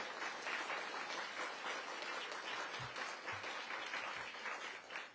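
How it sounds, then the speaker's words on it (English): Sustained crowd applause for residents at a ribbon-cutting ceremony for a senior apartment building, steady and dense for several seconds before tapering off at the end, fairly faint and distant. "Give them a big round of applause."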